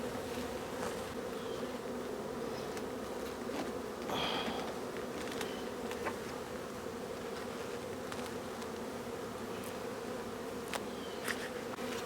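Honey bees buzz in a steady, dense drone throughout a hive inspection, a continuous close hum with occasional brief louder passes of individual bees near the hive.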